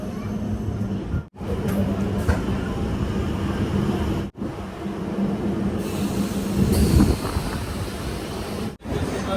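A MEMU passenger train rolls toward Guntur, heard from onboard as a continuous broadband rumble and rattle with a few brief sharp dropouts.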